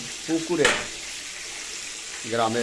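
Tilapia from a village pond frying in oil in a pan, a steady close sizzle running throughout, with brief bursts of voices at the start and end.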